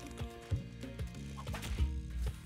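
Turkeys gobble and cluck repeatedly in the Spelunky 2 video game, with a steady string of rapid bird-like warbles over game music, fairly loud and close, with no talking.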